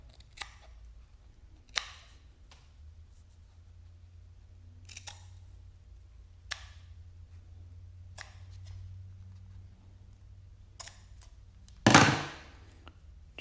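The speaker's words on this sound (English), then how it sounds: "Take our scissors," Scissors snip through double-strength car awning material once, a single sharp, close cutting burst at the end after several faint, sparse handling clicks in a quiet room.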